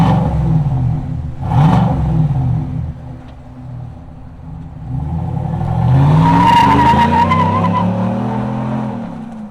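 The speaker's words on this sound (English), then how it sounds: "Let's fire up this V8 and hear what it sounds like." A 2025 GMC Sierra 1500 Denali Ultimate pickup with a 6.2-litre V8 fires up with a loud burst, settles briefly, then revs hard twice, each rev rising and falling in a deep throaty roar close by.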